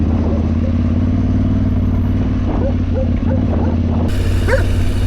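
Dogs bark and yip in short repeated bursts, fairly close, over a steady low engine hum, with a voice speaking briefly among the barks.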